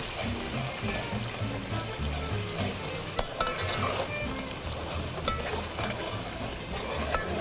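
Fish head and spices frying in a pan for a fish curry, a continuous crackling sizzle with stirring and scraping clatter, moderately close.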